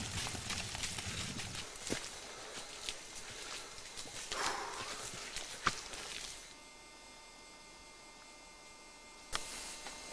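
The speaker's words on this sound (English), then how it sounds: "Using pack horses and mules, the teams start the long ascent to Mount Paititi." Hooves of pack horses and mules clip-clop unevenly on an Andes mountain trail as they climb, with a steady low hum underneath; the steps fade out partway, leaving quieter background.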